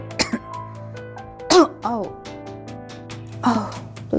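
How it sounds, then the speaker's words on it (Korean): A few short, harsh coughs and throat-clearing bursts, spaced apart, close to the listener with quiet breathing between them. "날씨가 추울 때는 찬물만 마셔도 기침을 자주 한다."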